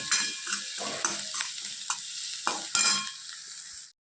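Spices being roasted and stirred in a pan: quick, close scraping strokes in uneven bursts over a dry sizzle, which stops abruptly at the end.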